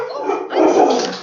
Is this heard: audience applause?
no